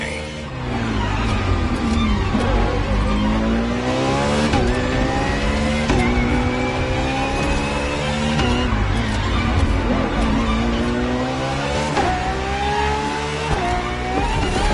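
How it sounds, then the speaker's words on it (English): Ferrari FXXK, a track-only version of the LaFerrari supercar, screaming around a circuit, loud engine revving up through gears in repeated climbing sweeps and drops, with brief talk mixed in. "For this second lap, you'll be driving the FXXK."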